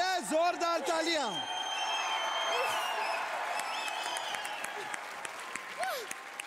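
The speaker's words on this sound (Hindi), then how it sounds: "अरे जोरदार तालियां।" A studio audience at a Hindi karaoke game show breaks into steady applause with a few whoops, while a host's voice rises over the start of the clapping.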